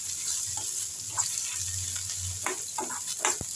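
Curry leaves fry in a pan for a tomato chutney, a steady close sizzle with soft crackles and a faint stir near the end, and no talk.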